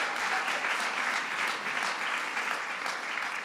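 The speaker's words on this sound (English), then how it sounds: "Give them a big round of applause." An audience at a film event in Washington applauds its MCs, a sustained, fairly soft roar of many clapping hands that holds evenly throughout.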